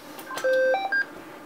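Hytera PD785 handheld radio playing Sepura-style alert tones, a short clean sequence of three electronic beeps at stepped pitches, close and clear against a quiet background.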